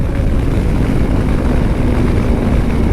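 A TVS RTX 300 motorcycle runs at sustained top speed on a highway, producing a loud, steady engine drone blended with heavy wind rush that stays unbroken throughout.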